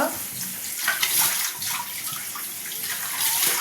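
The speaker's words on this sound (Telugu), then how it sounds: "శుభ్రంగా ఒక రెండు మూడు సార్లు బాగా కడగాలండి" Cut fish pieces rinsed in water with salt, a close steady splashing and sloshing as the pieces are rubbed and swirled, with softer swishes rising and falling and no clear talk.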